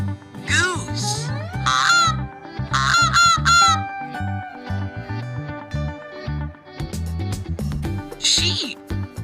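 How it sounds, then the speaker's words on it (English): Cartoon goose honking in a farm-animal sequence for kids, several loud nasal honks in bursts over a bouncy music backing, ending with a bright squeal. "Goose."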